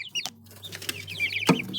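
Chickens cluck close by in short, soft bursts, with small pecking taps against a nearby object, no speech.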